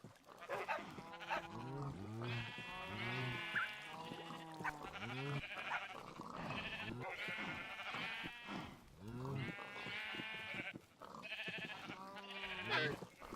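Minecraft sheep bleat over and over in overlapping, wavering calls, several animals close together in a dense, steady chorus with barely a pause and no talk.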